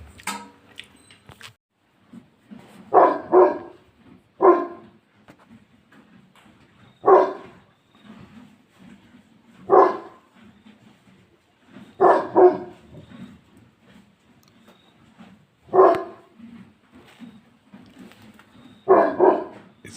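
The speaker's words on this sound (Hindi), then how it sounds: "भौंक रहा है कुत्ता हमारा डॉन।" A dog barking outdoors in the early morning, about a dozen loud, sharp barks arriving singly or in pairs at irregular intervals with quiet gaps between them, nothing else prominent.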